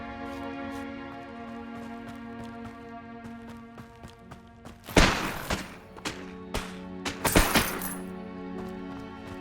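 Confringo fire spell cast in the Hogwarts Legacy video game, heard as two loud explosive bursts about two seconds apart over a steady musical drone, each followed by scattered debris-like thuds.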